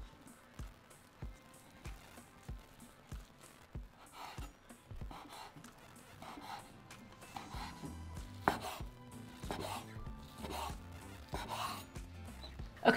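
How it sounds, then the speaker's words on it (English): Knife slicing rolled omelettes into long strips on a board, evenly spaced chopping knocks at first, then denser, quicker cutting, close and clear. "Roll those omelettes up and slice them into nice long strips."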